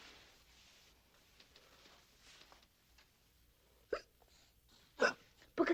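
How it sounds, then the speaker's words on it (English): A boy hiccups several times in a quiet room, sharp isolated gulps spaced a second or so apart, the last two close together, with soft background sounds beforehand. "that boy always did get the hiccups whenever he was scared and didn't want to let on"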